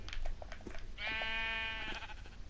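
A sheep in a video game gives a single drawn-out bleat of about a second, faint but clear, with soft clicks and low background noise around it.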